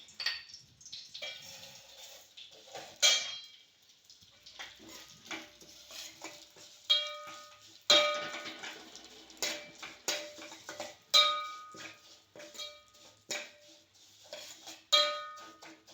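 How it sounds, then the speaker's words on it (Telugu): Vermicelli frying in ghee after dry fruits, with repeated close stirring and scraping of a spoon against the pan over a soft sizzle, in uneven bursts throughout. "ఓకే సేమియాలను కూడా నేతిలో వేయించుకోవాలి"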